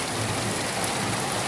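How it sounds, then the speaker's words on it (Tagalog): Heavy rain pours steadily onto surfaces as a dense, even hiss, loud and close, without talk. The stretch is too short to hear it easing. "medyo humihina na yung malakas na ulan kanina"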